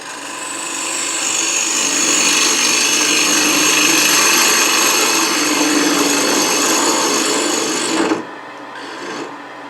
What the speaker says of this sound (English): I'm going to remove a little bit of wood in the middle with a 3/8 inch bowl gouge